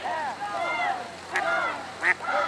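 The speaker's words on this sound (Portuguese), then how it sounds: "E agora os patos estão gritando que nem loucos." A crowd of ducks quacks loudly at a Dragon Boat Festival by the water. Repeated honking calls overlap at close range, with a couple of sharper squawks cutting through near the end.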